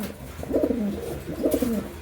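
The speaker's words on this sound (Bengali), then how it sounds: "এই যে 8 পরের দুটো কবুতর আছে" Two eight-feathered silver Siraji pigeons give two soft, rolling coos about a second apart, close by and alone, with low background noise.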